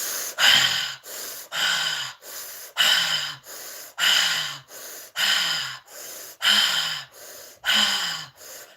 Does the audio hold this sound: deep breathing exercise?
yes